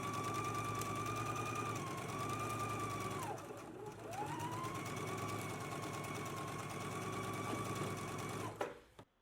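A sewing machine runs steadily while stitching on four pocket pieces, with a brief pause midway before it resumes. The motor hum is close and continuous, and the machine stops near the end.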